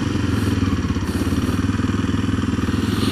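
A dirt bike motorcycle engine runs steadily, recorded close up through a helmet-mounted mic, with a loud, even low throb and rapid rhythmic pulsing, no talking.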